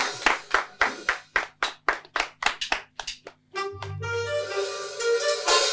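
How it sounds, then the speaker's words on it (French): A small audience at a French-language show claps in a slow, steady unison rhythm of about a dozen sharp close claps, then breaks into rising applause over music and noise. "On applaudit et puis on valide."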